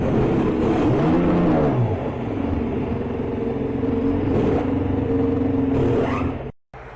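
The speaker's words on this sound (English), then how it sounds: "The sound of that engine sounds beautiful, bro." Formula 1 car engine heard from the driver's helmet camera, loud and close, its pitch sweeping up and down through gear changes before cutting off briefly near the end.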